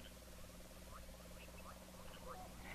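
In a tropical rain forest, a tree frog gives rapid pulsed croaking trills and short chirps against a faint, steady background hum.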